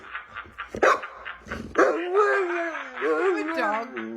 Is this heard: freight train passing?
no